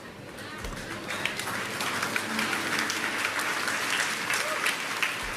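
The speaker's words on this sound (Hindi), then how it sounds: "सबसे पहले तालियां बहनों ने बजाई।" Women in a church congregation applaud with steady, continuous clapping that sounds moderately distant and fills the room, with soft voices mixed in.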